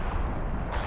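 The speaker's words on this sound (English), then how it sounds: "Artillery inbound." Artillery fire in the Call of Duty: Black Ops Cold War video game, a dense, continuous low rumble of blasts filling a short burst, loud and close with no talk over it.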